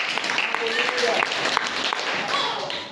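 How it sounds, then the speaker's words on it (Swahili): A church congregation claps for Jesus during a sermon, with continuous mid-distance applause and scattered sharp claps mixed with voices for the whole stretch. "Yesu makofi mazuri."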